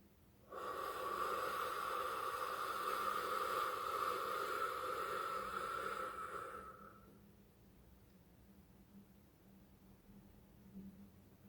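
One long, slow, deep breath is drawn close by during a calm breathing exercise, a steady airy rush lasting about six seconds before fading into near silence.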